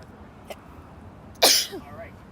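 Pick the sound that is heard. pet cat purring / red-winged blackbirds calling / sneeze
sneeze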